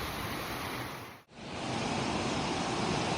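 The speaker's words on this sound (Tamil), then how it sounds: "இந்த ஃபால்ஸ் அப்படியே தாண்டி வந்து இப்ப ரம்போட ஃபால்ஸ் உச்சிக்கே வந்துட்டோம்." Ramboda Falls, a waterfall, roars as a steady broadband rush of falling water, loud and close, briefly cut by a sharp dropout before resuming.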